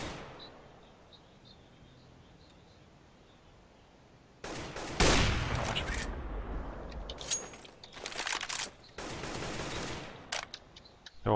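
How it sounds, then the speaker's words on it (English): Gunfire in a competitive team shooter match: quiet at first, then loud bursts of rapid automatic shots in several volleys with short gaps, close and sharp. "Let me shoot."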